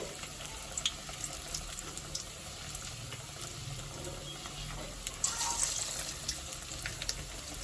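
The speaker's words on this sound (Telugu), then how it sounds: "సిమ్లో పెట్టుకొని డీప్ ఫ్రై చేసుకోండి." Fish kabab pieces deep frying in hot oil on a low flame, a steady crackling sizzle that runs throughout, with a brief rise in bubbling near the end and no talking.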